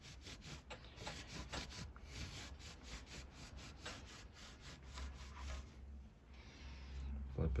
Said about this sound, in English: I'm gonna take the same rag with the acetone on it, and we're gonna go around here, clean this rotor as good as we can